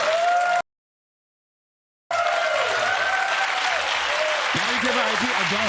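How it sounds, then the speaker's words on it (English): Studio audience applause at a comedy talk show, loud and sustained crowd clapping that cuts out briefly to silence, then resumes at full strength and continues steadily to the end. "The crowd loves my dirty Phil impression"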